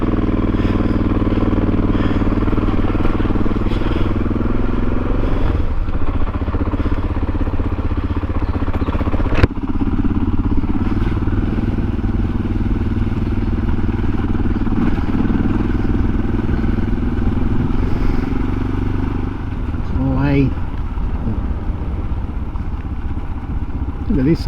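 A Suzuki DR650 motorcycle on a ride through Werrikimbe National Park gives a steady, loud engine drone that holds for the whole stretch, with a sharp knock near the middle and some rattling later on.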